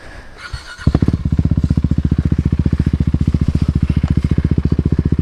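A KTM 390 Duke single-cylinder motorcycle starts pulling away with a loud, steady rapid engine pulse close by, after a brief quieter moment of ambient noise.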